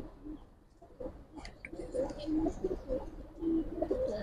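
A pair of zira-gola pigeons coos in a loft, several low throaty calls rising and falling close by, with faint rustling and background noise between them.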